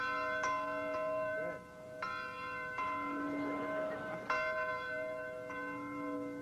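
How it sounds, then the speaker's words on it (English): A boxing training camp bell rings out in repeated clear, resonant strikes at uneven intervals, each tone ringing on and overlapping the next, loud and fairly close, with no talk over it. "That bell rings every morning at 4:30"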